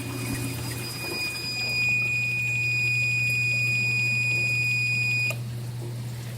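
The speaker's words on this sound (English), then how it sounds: "it's going to set off an audible alarm on the control panel" A pump control panel sounds its audible alarm when the float valve triggers on rising water. A steady electronic high-pitched beep holds for about four seconds and then cuts off, over a low, constant mechanical hum.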